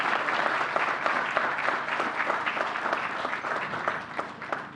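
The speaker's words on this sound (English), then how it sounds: "Give New Yorkers an applause, round of applause." Applause for New Yorkers rises at a COVID-19 update from New York Governor Andrew Cuomo, a moderate, even round of clapping from a modest group, steady for several seconds with no speech over it.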